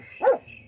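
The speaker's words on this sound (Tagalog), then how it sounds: "Taul dagiti aso dita abagatan." A single dog bark from the south at night, one short bark standing out over a quiet background.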